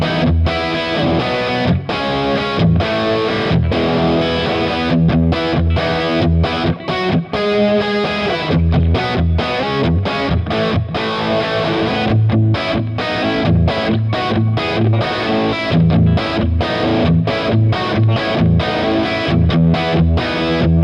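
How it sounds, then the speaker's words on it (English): Distorted electric guitar through a Kemper profiling amp set to a finished, mix-ready plexi-style tone, playing a continuous riff with chords and single notes for about twenty seconds, loud and up front with no talking. "Beautiful, lovely sort of plexi tone."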